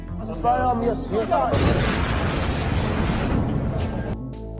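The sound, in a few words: cars exploding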